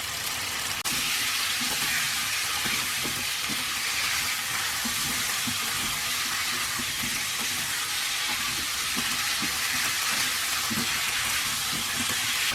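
Pumpkin cooking in a hot pan, a steady close sizzle over high heat with soft intermittent scraping and stirring knocks throughout, no voices.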